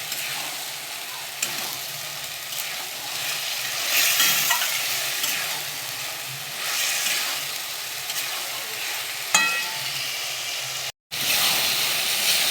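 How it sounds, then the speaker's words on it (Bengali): Chicken pieces being stir-fried in a pan with spices and a little gravy: a steady close sizzle with repeated scraping stirs throughout and one brief cut near the end. "মাংসের যতক্ষণ না কাঁচা গন্ধটা যায় আমি কষিয়ে যাব।"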